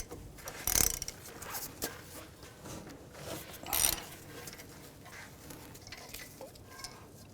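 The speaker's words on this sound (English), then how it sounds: "we're going to remove our caliper, our two" A hand ratchet loosens 14mm brake caliper bolts on a 2011-2017 Honda Odyssey, giving soft clicking ratchet strokes and two sharper metallic clacks among quiet handling noises, close and faint.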